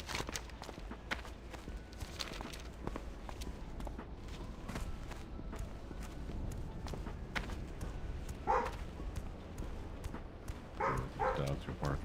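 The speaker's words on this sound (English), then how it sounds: "These dogs are barking at, I swear." Dogs bark outdoors in a very rural area, several sharp barks scattered at a distance over rustling and footstep-like thumps, with a person speaking through part of it.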